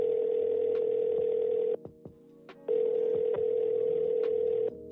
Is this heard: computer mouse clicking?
no